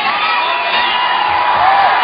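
A crowd at a men's bouldering World Cup final in Vienna cheers and whoops loudly and continuously as a climber nears the top, with no break in the roar.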